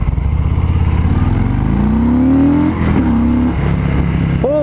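A Harley-Davidson Breakout 114 motorcycle, roughly 660 pounds with about 119 foot-pounds of torque, rumbles loud and close while riding, its deep engine note rising steadily under acceleration, dipping briefly at a gear change, then pulling again.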